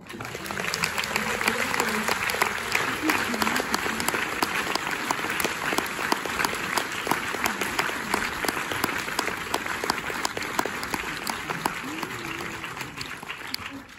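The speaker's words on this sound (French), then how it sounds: "je vais les applaudir" A cinema audience at the Méliès in Montreuil applauds the Bertrand family, sustained crisp clapping from a full room with voices murmuring underneath throughout.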